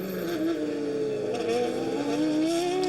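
A GP2 race car runs on a track in France, its engine holding a continuous high whine that rises gradually. The car sounds moderately close, with no voices over it.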